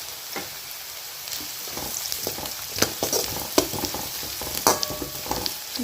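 Onions and green chili frying in a pan, a steady close sizzle broken by scraping stir strokes and sharper spatter pops, with no voices.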